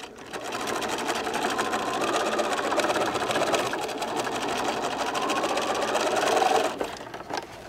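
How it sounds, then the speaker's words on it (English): A sewing machine stitches vinyl, a steady close mechanical whir with rapid needle ticking that runs continuously for several seconds before stopping. No one talks over it. "I'm going to stitch from this side since I've already got it in my hands here."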